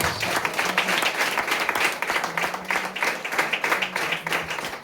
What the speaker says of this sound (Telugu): అందరం చప్పట్లు పెట్టి ప్రభువుని నమ్ముదాం